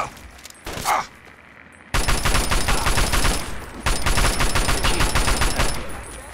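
Sustained assault rifle fire in the video game Fallout 3, loud rapid automatic bursts that run for several seconds after a brief opening shot, with a short break midway.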